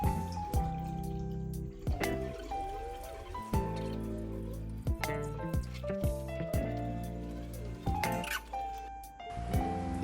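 Water is poured slowly into a 100-litre betta fish aquarium, a continuous liquid splashing and trickling mixed with scattered clicks and knocks, fairly close, with no one talking.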